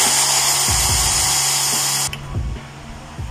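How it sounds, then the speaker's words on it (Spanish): A high-pitched power drill whines steadily while boring holes in a homemade coyote, wild boar and deer trap, loud and close, cutting off abruptly near the end as low knocks and handling sounds follow. "Vamos a proceder a hacer los agujeros rápidamente."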